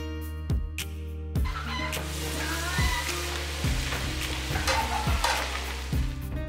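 Onion and capsicum sizzle in hot oil in a second pan for a Kadai chicken and veg biriyani, a steady close frying hiss with repeated scraping stir strokes at an even rhythm.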